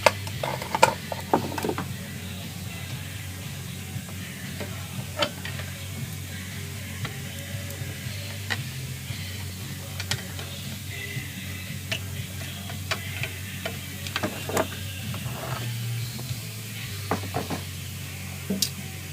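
Ratchet socket wrench working 10mm bolts on the EGR valve of a 2005-2007 Dodge Caravan with a 3.3 or 3.8 engine: steady close ticking clicks of the pawl in bursts over low engine-bay hum, no talking.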